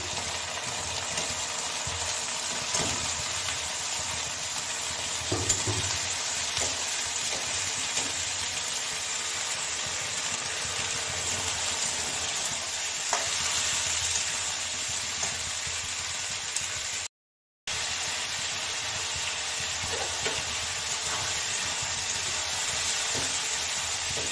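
Onions, chickpeas and potatoes fry together in a pan, a steady broadband sizzle and hiss running throughout with occasional faint stirring knocks, interrupted by one brief gap of silence.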